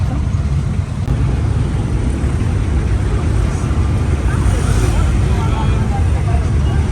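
Busy market-street traffic roars nearby, with motorcycle engines droning and buzzing steadily in a continuous, loud wash of noise.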